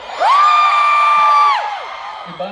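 A Cebu festival crowd at a concert at Aurora Music Festival Cebu 2025 lets out one long, loud, high-pitched screaming cheer that holds steady, then fades, with a voice cutting in faintly at the end.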